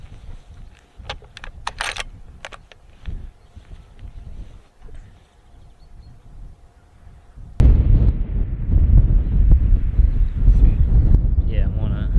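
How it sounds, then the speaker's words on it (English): Wind buffets a hilltop above a valley, first light with scattered clicks and handling knocks under talk, then a loud sustained gust roars across the microphone. "It's just windy up where we are here."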